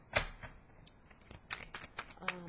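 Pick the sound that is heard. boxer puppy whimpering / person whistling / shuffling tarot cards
shuffling tarot cards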